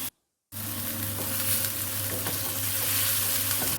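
Cashews, raisins and onion frying in a pan for fish biryani: after a brief knock and a moment of silence, a loud steady crackling sizzle begins and holds, close by.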